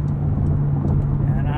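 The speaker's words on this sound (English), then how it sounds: "The rest of the sound system just lies in that sport exhaust" A 2021 Porsche 911 Turbo S with sport exhaust drones steadily at low pitch while driving at night, a continuous close engine hum beneath light background noise.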